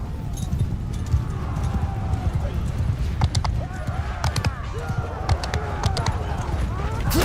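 Horse hooves clip-clop at a steady run through a battle in Mount & Blade 2 Bannerlord, with dense combat clamor and sharp transient hits layered over the continuous hoofbeats.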